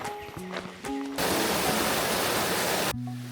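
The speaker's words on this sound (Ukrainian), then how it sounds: "Ну, ось і головний водоспад." A loud, steady rush of water from a main waterfall cascade in Krabi fills most of the moment, sandwiched between brief bits of a person talking.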